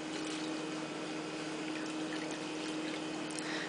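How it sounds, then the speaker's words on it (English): Turkey stock pours steadily over dehydrated brown rice, a continuous liquid splash and trickle with a faint hum underneath, no voices. "I'm going to put as much stock as I can put in"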